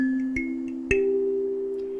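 A 17-key kalimba in standard tuning plays a few soft plucked metal tines, each ringing with a sustained bell-like tone that overlaps the next, calm and close.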